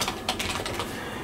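Fast typing on a computer keyboard: a dense, steady patter of close plastic key clicks with no voices.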